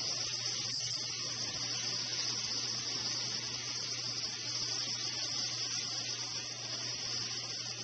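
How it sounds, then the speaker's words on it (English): Chili and tomatoes saute in a pan with a steady, even hiss that holds at a constant level throughout, close and unbroken, with no one talking. "We're just going to saute this for a few minutes."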